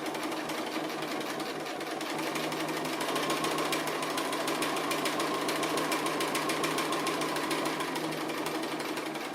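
A sewing machine stitches fabric appliqué with a steady, continuous mechanical whir and a rapid needle rhythm. It sounds close and runs unbroken for the whole stretch, with no talking.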